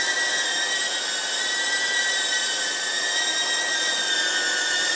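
Electric motors of a radio-controlled balloon drone whine steadily and loudly throughout, a constant high-pitched buzz with layered tonal hum and no talking.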